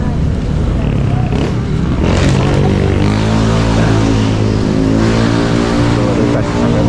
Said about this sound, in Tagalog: Napaka-traffic dito.